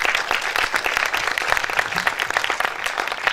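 A live audience bursts into loud, steady applause to welcome Jorge to the stage at the Soulbook II book presentation, a dense wash of many hands clapping throughout.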